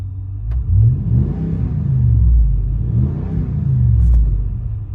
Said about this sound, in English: you can kind of hear the rumbling of the exhaust system